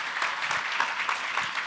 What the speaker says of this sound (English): Please give another round of applause to Congressman Peter King and President Mart